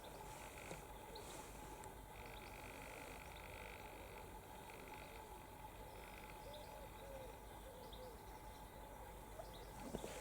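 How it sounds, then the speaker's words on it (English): Pigeons coo and smaller birds chatter beside a canal, faint and distant over a low steady background rumble, with soft scattered calls throughout. "There are pigeons cooing in the background. There's a lot of birds chattering."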